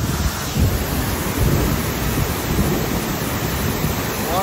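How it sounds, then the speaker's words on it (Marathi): Dhootpapeshwar waterfall in the Konkan region gives off a dense, constant roar of falling water, loud and unbroken throughout. "वॉटरफॉल"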